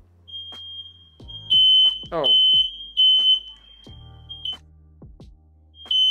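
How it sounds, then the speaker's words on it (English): A household smoke alarm sounds a steady, piercing high beep that runs almost continuously, broken by brief gaps, with a voice and bumping sounds nearby during an indoor LEGO build. "My wife turned on the fire alarm."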